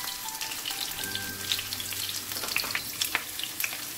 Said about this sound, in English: onion and garlic for now. Fry for a minute.